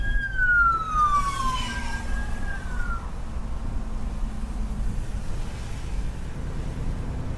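A police car siren wails past a truck, its falling, sweeping tone loud at first and then fading, over the steady low rumble of the truck's engine and road noise.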